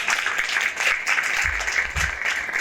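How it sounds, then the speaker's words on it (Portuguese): An audience at an open innovation panel event in Bahia applauds a returning panelist, a continuous wash of many hands clapping at even volume, with some low thumps mixed in. "Palmas de novo para a Rebeca"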